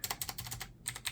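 Rapid clicky computer keyboard keys pressed in a quick, fairly even typing rhythm with a short pause, close and faint.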